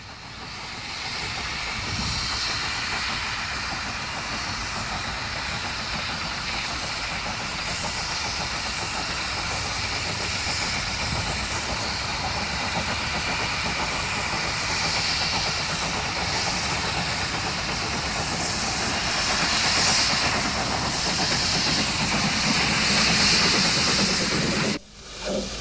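Steam locomotive Fenchurch pulling away from Sheffield Park station in busy summer weather, a steady, continuous loud chuffing roar with hiss, sustained throughout without pause until a sudden cut near the end.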